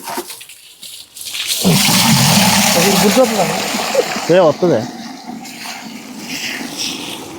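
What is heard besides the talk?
water washing a motorbike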